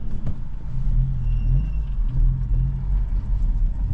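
A Nissan GT-R R34 rumbles past at a dyno day, a steady low engine drone that swells slightly as it goes by, fairly close and loud throughout.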